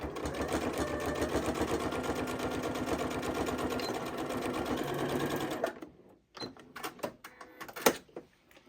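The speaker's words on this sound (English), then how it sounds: "I'll take a few stitches, and then I will back stitch to secure those" A Janome 8200 QCP sewing machine stitches a fabric bowl cozy in one continuous, close, even whirring run of about six seconds, then stops abruptly, leaving scattered clicks and handling sounds.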